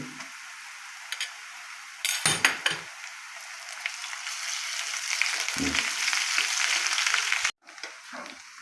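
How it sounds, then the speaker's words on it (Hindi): Onions and garlic-ginger paste fry in a pan over a medium-low flame for creamy chicken keema, a soft sizzle that swells and thickens, broken by a few clattering stirring knocks; no one speaks. "मीडियम टू लो फ्लेम पे लाइट ब्राउन हो रहा है प्याज"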